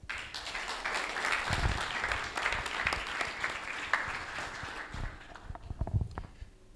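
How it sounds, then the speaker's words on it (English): An audience at an architecture talk applauds to welcome a lecturer, steady warm clapping filling the room for several seconds before fading out. "Give him a warm applause."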